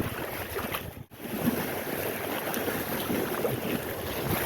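Steady wind buffeting the microphone outdoors, a continuous rushing noise with a brief dip near the start, no voices.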